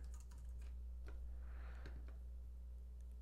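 Computer keyboard being typed on while entering text into an Adobe InDesign CS6 text box, a quick run of faint, close clicking keystrokes with no one talking.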